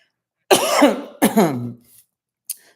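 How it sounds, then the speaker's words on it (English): Two harsh, close coughs in quick succession, followed by a brief faint throaty sound after a pause. "It's making me cough a lot."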